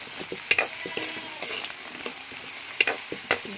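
Potatoes and carrots fry in a pan with a steady soft sizzle, broken by scattered clicks and scrapes of stirring.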